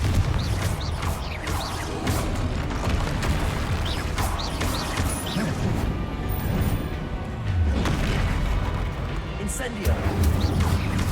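Blasts and crashes of the Confringo explosive spell in the game Hogwarts Legacy burst repeatedly through dense, busy game sound, with a voice talking over much of it.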